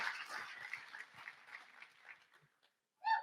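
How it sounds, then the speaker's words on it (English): An audience at a conference athlete panel applauds. The clapping gradually thins and fades to silence, and then a short sound follows near the end. "can we clap for that?"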